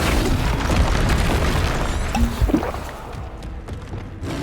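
Flipendo spell cast in the Hogwarts Legacy video game, a short booming burst around the middle of a dense, continuous game soundscape, followed by a few softer pops.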